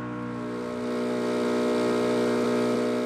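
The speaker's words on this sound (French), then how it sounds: "Le bruit du moteur déchire le silence de la traversée." An outboard motor drives a pirogue across a lagoon, a steady droning hum with strong harmonic tones that swells slightly in loudness after the first second and then holds, with no talk.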